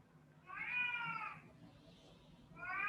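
A cat lets out a drawn-out meow, then starts a second one after a short pause. Both are fairly faint against a quiet background.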